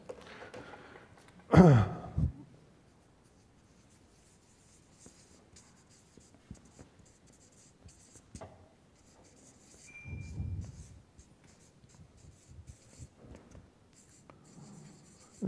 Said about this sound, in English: in case you want to write it down, well, here, let me do that